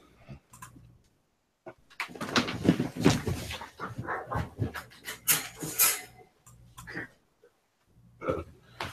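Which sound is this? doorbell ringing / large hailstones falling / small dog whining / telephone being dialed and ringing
small dog whining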